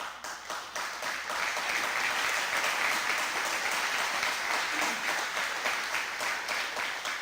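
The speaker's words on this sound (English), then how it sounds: "I'm glad you're applauding for that" An audience at a school grand opening ceremony breaks into sustained applause, a dense, even roar of clapping that holds steady throughout with no voices over it.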